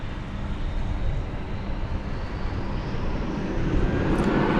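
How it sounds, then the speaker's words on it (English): An Airbus A321 airliner heading out from DFW Airport to Sacramento makes a continuous jet engine rumble that swells slightly toward the end, fairly loud and alone. "It's an Airbus A321, flight 1677."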